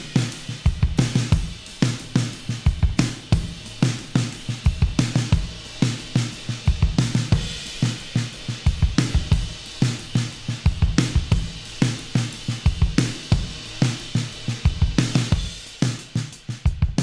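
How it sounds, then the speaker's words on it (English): Acoustic drum kit recorded in a studio with only the natural room ambience, no added delay or reverb; steady loud beats with kick and snare hits and cymbal wash repeating throughout, alone with no talking. "There's no sort of artificial delay or reverb on that drum sound."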